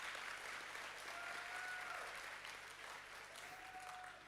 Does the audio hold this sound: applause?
yes